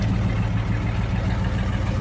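Small Ford tractor engine idling in Farming Simulator 22: a steady, close, low throbbing hum that stays even throughout, with no voices.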